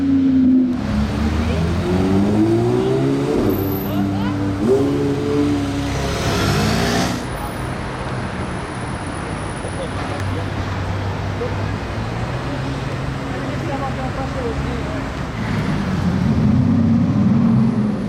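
A loud engine roars steadily, its pitch climbing and falling as it revs, with a brief shift midway and another rising surge near the end.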